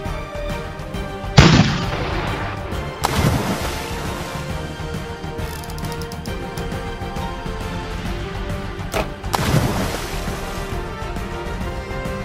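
Pirate ship cannons firing in an animated toy adventure story, three loud booming blasts spaced a few seconds apart, each trailing into a rumbling decay over faint ambient background.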